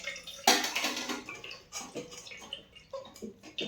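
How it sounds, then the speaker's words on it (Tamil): Paneer curds being rinsed under gently running tap water, with irregular splashes, drips and light clinks of a vessel, close and fairly quiet, no voices. "இப்போ நம்ம தண்ணி கொஞ்சம் கொஞ்சமாக விட்டு நல்லா அலசிக்கலாம்"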